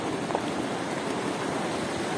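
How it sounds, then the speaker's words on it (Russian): Rushing mountain river at Arkhyz heard during a horseback ride, a steady broadband roar of water, fairly loud and continuous with no speech over it. "Бурная река."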